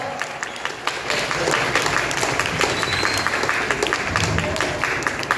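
Sustained audience applause at a state karate coaching camp in Dhupguri, dense and continuous clapping from a sizeable crowd, fairly loud and even from start to finish.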